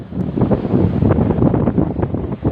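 Strong wind at a river fishing tournament in Dalahican, Lucena City, buffets the microphone in continuous gusty roars, loud and close throughout.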